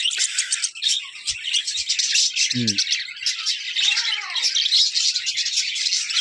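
Dense, continuous chirping and chattering from several budgerigars, bright and close, with one brief lower squawk partway through.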